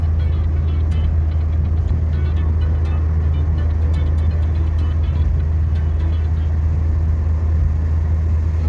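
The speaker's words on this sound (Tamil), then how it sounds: "பின்னாடி ஒரு வண்டி வருது இல்ல" A road vehicle rolling along behind, heard as a steady, loud low engine and tyre rumble that holds constant throughout, with no speech.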